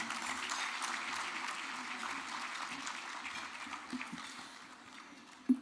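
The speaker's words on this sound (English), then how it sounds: "Give her a big round of applause, please." Audience applause at a South Florida Muslim community event, a steady wash of clapping that holds at an even level throughout before tapering slightly near the end.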